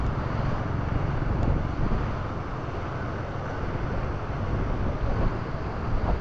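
Strong wind roars and buffets continuously along a seaside boulevard, a dense rumbling rush with no pauses, loud and close.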